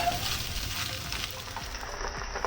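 Eggs sizzle and fry in a hot wok for a seafood hor fun stir fry, a close, continuous crackling hiss with a light scrape or two as they are broken up.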